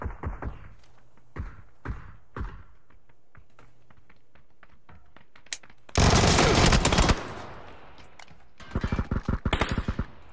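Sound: gunfire in a video game

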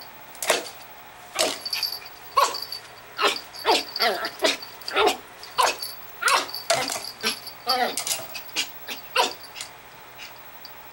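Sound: Schipperke dog growling and whimpering

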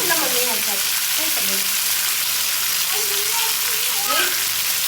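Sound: fish shallow-frying in a pan

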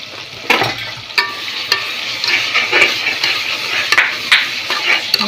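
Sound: chicken frying with biryani masala, being stirred

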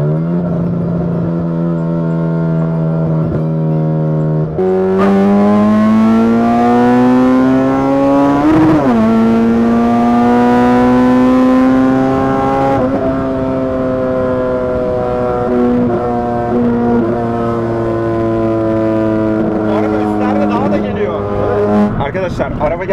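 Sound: Honda car engine revving while accelerating through gears

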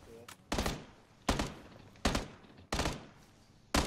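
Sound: SKS rifle gunfire in a video game

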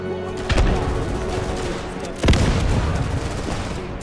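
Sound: gunfire in video game Easy Red II, Stalingrad

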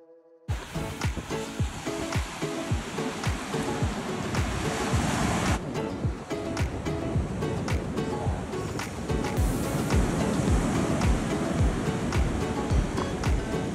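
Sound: waves on the shore at Panama City Beach

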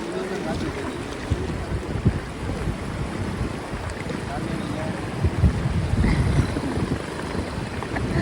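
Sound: van driving through river water

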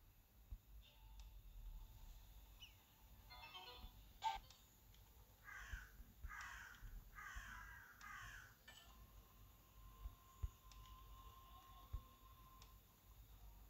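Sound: crows cawing in Germany

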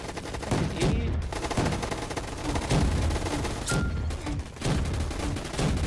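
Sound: gunfire in the Roblox video game Gunfight Arena

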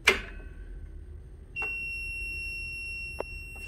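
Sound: continuity tester beeping on plasma cutter torch plug

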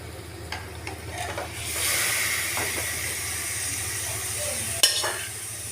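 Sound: marinated chicken stirred and frying in pan

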